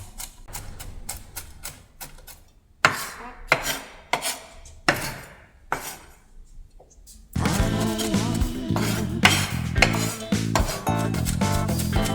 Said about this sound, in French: il faut vraiment que ça soit bien haché